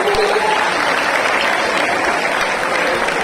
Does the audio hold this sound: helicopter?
no